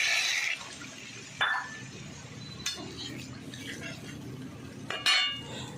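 Water poured into fried spice masala in a pan, heard as a few short splashing hisses and sizzles separated by pauses, with faint clinks of utensils between them.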